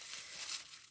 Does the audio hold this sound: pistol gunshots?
no